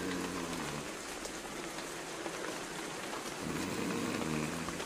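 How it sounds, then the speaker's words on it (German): Rain splashes steadily in the adventure game NiBiRu, a dense, even patter of drops hitting surfaces, continuous and close with no voices. "Der Regen, das Geplätscher, das gefällt mir auch."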